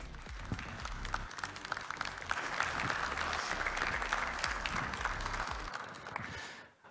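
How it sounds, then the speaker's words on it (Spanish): A conference crowd at the Ekoparty security event applauds to welcome a speaker: sustained, fairly distant clapping from many people that swells slightly in the middle and then tapers off at the end. "damos la bienvenida con un fuerte aplauso a Lautaro Lombardi."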